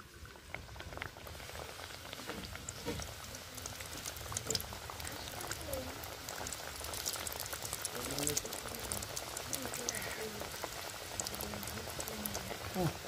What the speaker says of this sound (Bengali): তেল গরম হয়ে গেছে, এখন খাজাগুলা ভেজে নেব।